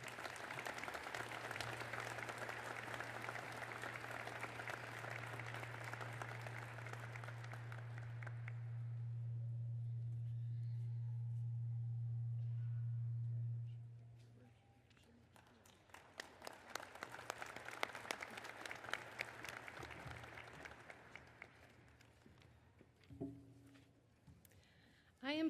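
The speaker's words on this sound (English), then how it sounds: "Please join me in a round of applause for our outstanding alumni of" An audience at a college commencement ceremony breaks into sustained applause for about thirteen seconds under a low steady hum. It fades, and a second, quieter burst of scattered clapping follows.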